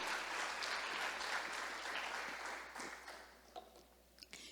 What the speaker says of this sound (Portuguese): Dá uma salva de palmas ao Senhor dos Exércitos.